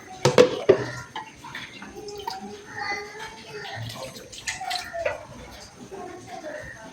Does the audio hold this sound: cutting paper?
no